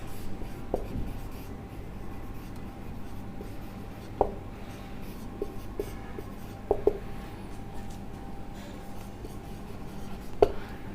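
Pen writing on paper while working chemistry problems, with faint soft scratching and a few sharper taps against a steady low hum, no talking.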